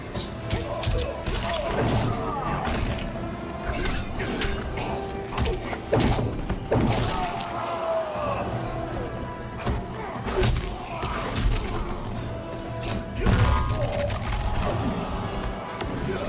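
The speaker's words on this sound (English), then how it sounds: "So Scorpion missed his fatal blow attack" Repeated punches, kicks and body hits from a Mortal Kombat 11 fight between Scorpion and Baraka, dense thuds and slams layered over game music and effects, continuous and fairly loud throughout.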